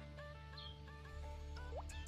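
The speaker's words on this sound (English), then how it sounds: "chicken" A chicken clucks in short, repeated calls with a few higher squawks over steady background noise, fairly close and alone, with no talking.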